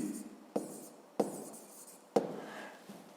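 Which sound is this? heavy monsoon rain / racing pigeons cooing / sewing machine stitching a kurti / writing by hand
writing by hand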